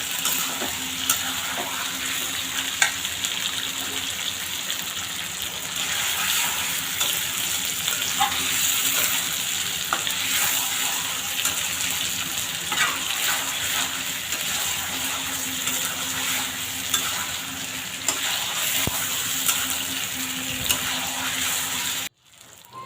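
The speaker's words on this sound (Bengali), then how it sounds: "মাংসটা একদম মাখা মাখা করে রান্না করবো মানে কষা কষা করে" Meat being stir-fried in a pan for kosha, a continuous dense sizzle with faint stirring and scraping, steady and close throughout before cutting off at the end.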